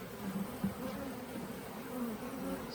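Honeybees in a queenless beehive, a faint steady drone of buzzing wings with a few slightly louder passes close by, continuous and alone.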